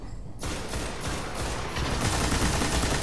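Rapid gunfire from a weapon in Destiny, fired during a Nexus Nightfall strike, cracks in a dense, continuous burst that starts abruptly and stays loud and steady through to the end.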